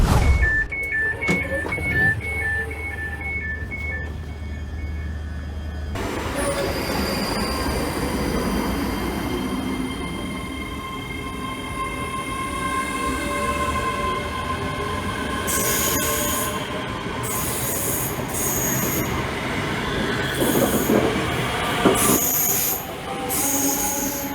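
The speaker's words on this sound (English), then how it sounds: "There's a lovely HST in the background." A train rolls near Haymarket station in Edinburgh with loud wheel squeal and rail rumble, while an HST high-speed train is in the background; sharp, sustained squealing rises and falls over a continuous rolling noise.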